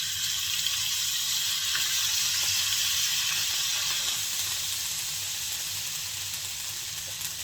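Chickpeas go into hot oil and sizzle with a loud, steady hiss that holds throughout, easing slightly toward the end.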